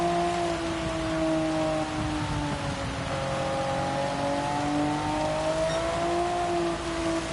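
Engine whine from NSX GT500 racing cars in Gran Turismo 7 at Suzuka rises and falls steadily over a constant hiss of rain on a wet track, with no talking.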